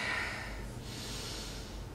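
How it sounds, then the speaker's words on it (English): A person doing full diaphragmatic breathing during a Pilo-Yoga session takes a long, audible breath, moving from a sharp nasal intake into a soft, steady airy rush, close and quiet. "we're focusing on full breathing, diaphragmatic breathing"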